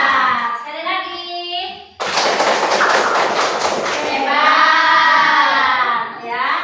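Classroom of students clapping together, a dense burst of many hands that starts abruptly and runs for several seconds, with a teacher's voice speaking before and after.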